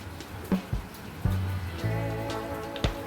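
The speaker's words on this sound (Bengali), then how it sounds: "বাইরে বৃষ্টি হচ্ছে" Steady rain patters outside a home kitchen where a pan heats on a gas stove. The soft, even hiss is broken by a few sharp clinks and knocks close by, and no one speaks.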